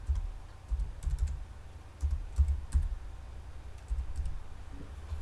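A password is typed on a computer keyboard, with quick clusters of close, soft key clicks and thumps separated by short pauses.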